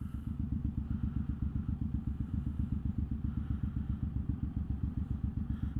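Sheriff's motorcycles idle and rumble nearby, a steady, loud, pulsing engine throb with a clattering low beat throughout, no voices.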